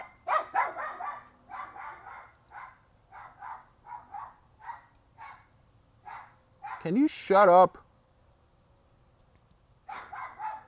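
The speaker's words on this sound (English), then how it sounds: "Dog going crazy." A dog barks sharply in a short burst, loud and near, breaking into a stretch of conversational talk that resumes afterward.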